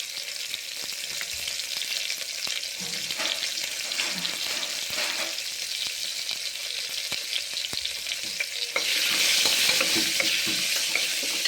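Small shallots and two whole green chillies fry in hot oil in a pan, giving a steady, close sizzle with scattered stirring scrapes that grows louder and brighter toward the end.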